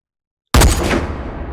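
A single loud gunshot in the H3VR virtual reality game, fired at small dueling tree targets on a sniper range, bursts from silence and trails off into a long rumbling echo.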